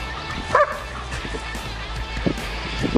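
A small female dog yaps a few short barks while playing outdoors, close by and bright, with sparse gaps between the yips.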